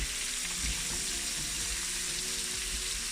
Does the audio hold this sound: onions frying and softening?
yes